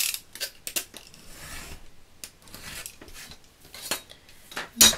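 A craft blade trims paper for a handmade birthday card, giving a run of close, dry scraping and snipping strokes in uneven bursts, with a sharper click near the end and no talking.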